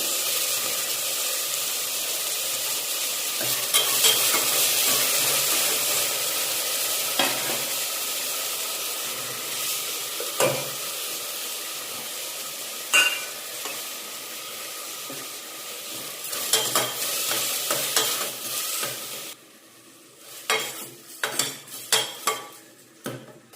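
Tomatoes fry in a pan for tomato rice, giving a loud, steady sizzle with repeated scraping and clinking as they are stirred. Near the end the sizzle drops away, leaving a few sharper spoon taps and scrapes.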